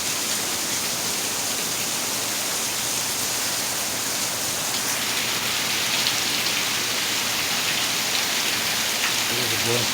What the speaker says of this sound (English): You don't like the rain?